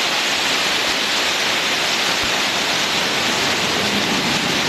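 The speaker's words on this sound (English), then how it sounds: "I didn't see anything around it stating the name of it" A waterfall in Vermont's Green Mountains, a loud steady roar of rushing, crashing water that holds unbroken throughout, close and dominating with no other sounds.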